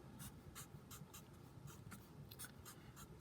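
A pen scratches steadily on paper while a tree diagram for three coin flips is drawn, quick repeated strokes close up over a constant background hiss, with no talking.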